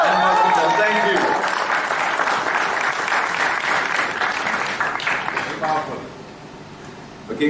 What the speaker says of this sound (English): How do we appreciate it? With a huge round of applause and welcome.